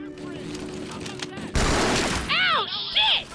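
A sudden loud burst of gunshots from Red vs Blue, the Halo-based machinima series, cuts in after quieter talk, and raised voices follow right after the shots.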